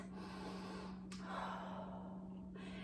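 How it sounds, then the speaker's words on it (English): A person breathes deeply while resting between sets of a home workout, with a close inhale and a slower exhale over a steady low hum. "Take a deep breath, 10 to 20 seconds."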